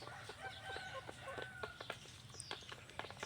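A flock of young bantam chickens, hens and roosters, clucks and chatters at evening feeding outdoors, with overlapping calls and a crow-like cry over busy farmyard background noise.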